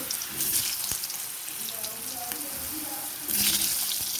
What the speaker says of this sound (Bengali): এবারে আলুগুলোকে আমি ভেজে তুলে নেব।